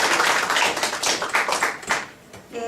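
An audience at a lecture claps briefly, a short burst of fairly close hand claps that thins out and fades within a few seconds.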